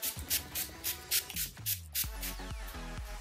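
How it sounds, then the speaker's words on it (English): NYX setting spray misted from a handheld bottle in a series of quick, close, hissing pumps over the first two seconds, with background music running throughout. "now I'm just going to go in with NYX Fix and Spray"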